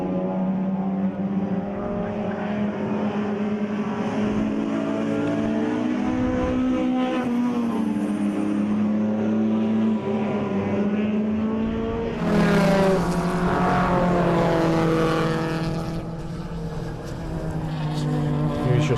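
Race cars at the Zwartkopanapolis 500 roar past in a continuous loud engine drone with shifting pitch, building to a brighter surge as one passes close, with no talk.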